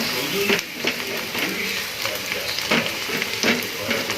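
Chopped carrots and beetroot sizzle and hiss in hot oil in a pan for hakka noodles. The frying is steady and close, with a few stirring scrapes, and a voice speaks faintly in the background.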